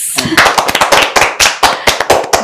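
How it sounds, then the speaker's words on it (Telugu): Loud, close clapping from an audience at a kids' spoof interview, a brisk flurry of sharp hand claps lasting a couple of seconds. "ఒకసారి క్లాప్స్"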